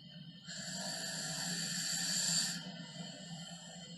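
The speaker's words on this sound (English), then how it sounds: "She's snoring. Mouth is wide open." A sleeping child snores open-mouthed on a recorded testimonial, giving one long, hissing, rasping breath over a faint low hum.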